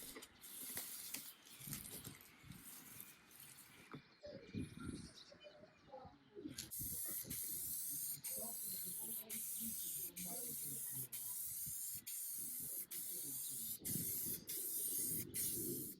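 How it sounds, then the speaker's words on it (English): Clear coat finish is sprayed on a restored old lab bench: a continuous hissing spray runs steadily for several seconds after some quieter shuffling and handling noises, with faint bird chirps in the background. "Here I'm just spraying the clear coat"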